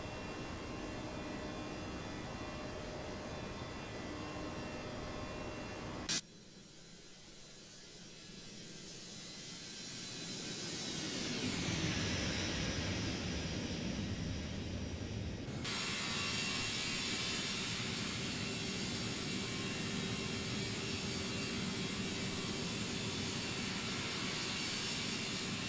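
Airbus A321neo jet engines spooling up to climb thrust in X-Plane 12, with a click, then a steady, rising whine and roar that settles into a constant drone.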